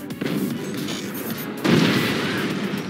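Railgun firing in the video game Forts, a sustained rumbling barrage that swells into a louder burst midway, dense and heavy with no talk.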